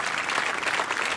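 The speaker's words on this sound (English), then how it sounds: "Give a round of applause to Bobby Cook" A short burst of steady applause, many hands clapping at once in a dense, even patter at moderate volume.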